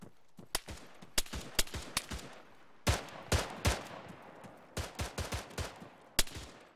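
Bursts of rapid gunfire crack in irregular volleys in a video game, sharp and loud, with short pauses between clusters of shots and no talking.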